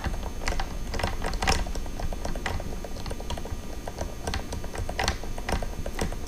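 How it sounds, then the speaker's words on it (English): A peg winder turns the tuning peg of a Telecaster guitar, winding its string with a quick, steady train of small ratcheting clicks, close up and fairly quiet. "Winding, winding, winding. Again, the peg winder really comes in helpful here."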